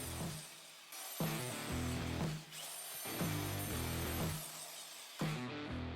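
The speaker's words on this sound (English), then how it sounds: "then drilled some holes" A small power drill bores holes into a jigsaw blade support arm in a compact workshop, running in several close whining bursts with brief pauses between them.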